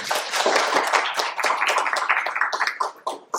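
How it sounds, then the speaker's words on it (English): Conference audience at a finance stage applauds its sponsors and partners, close dense clapping with individual claps audible, swelling and tapering slightly. "So big round of applause to our sponsors and partners."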